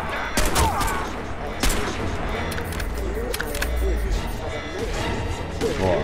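Gunfire in the video game Crysis 2, with several sharp shotgun-like blasts spread across the span and a player talking over the game sounds.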